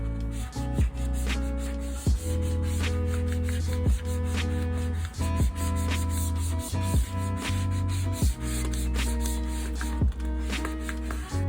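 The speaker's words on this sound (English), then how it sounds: "Now the card or the ruler is actually used to smooth out the bubbles" A card or ruler is rubbed firmly across a DIY paper-covered notebook to smooth out bubbles, giving repeated close scraping strokes in an uneven rhythm with brief sharp ticks between passes.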